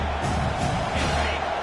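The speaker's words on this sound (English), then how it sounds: "Decibels rising as the crowd gets behind this defense on 3rd down" A stadium crowd at a football game roars steadily on third down, a dense, sustained wall of cheering that swells slightly, heard from within the stands.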